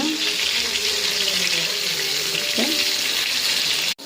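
Masala-marinated rohu fish fries in hot oil, giving a continuous close sizzle and bubbling with a brief clatter near the end.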